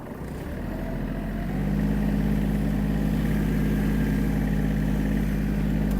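Running in third gear, a Kubota GL-300 mini tractor's engine drones close by, its steady throb rising slightly in strength partway through and then holding even, with no voices.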